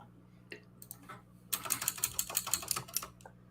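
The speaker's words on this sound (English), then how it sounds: "That obnoxious ass keyboard" A computer keyboard clacks under fast typing, a few isolated taps and then a dense, loud burst of rapid keystrokes, close to the mic.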